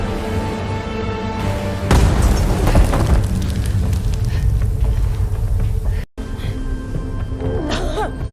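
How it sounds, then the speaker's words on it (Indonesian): A big explosion in a film erupts with a sudden deep boom and roaring blast that rumbles on for several seconds, followed by a cut and lingering crackling debris and rumble. "terjadilah ledakan besar yang sempat membuat mereka tak sadarkan diri"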